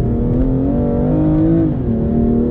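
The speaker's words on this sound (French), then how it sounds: "biturbo offre une sonorité rauque et caverneuse à bas régime qui s'éclaircit pour devenir plus métallique au fur et à mesure qu'on s'approche de la zone rouge" A BMW M2 Competition with its biturbo engine revs in a steady, continuous drone, loud and close, with a husky low rumble and pitch that rises and dips slightly, no voices present.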